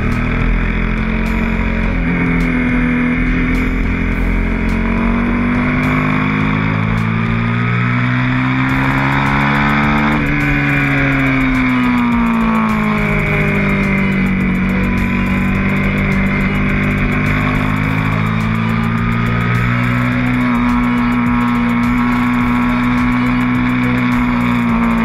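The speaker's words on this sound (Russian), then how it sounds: "Двигатель мотоцикла" An Aprilia Shiver 750 naked motorcycle's engine drones and revs continuously, pitch rising and falling through several sweeps, loud and close.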